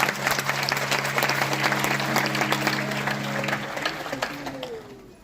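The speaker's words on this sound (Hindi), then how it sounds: "एक बार जोरदार तालियों से सभी का धन्यवाद" Crowd at a Guru Purnima program in India applauds in a sustained, moderately loud burst of clapping with a faint steady tone underneath, tapering toward the end.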